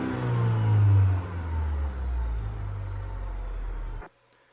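An engine, either a 2023 Chevy Colorado or a 2000 RAV4, revs to wide open throttle, giving a loud, close, sustained roar that climbs in pitch, holds, then cuts off abruptly.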